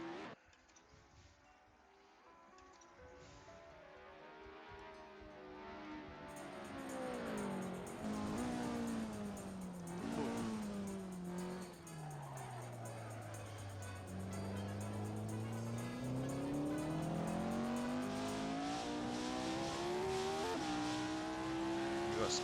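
Race cars in a Formula 1 video game set at the 1968 Canadian Grand Prix roar past in a pack, their engine pitch sweeping down and back up as they pass and accelerate, loud and continuous.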